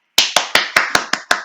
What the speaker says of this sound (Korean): 개미들 박수를 치며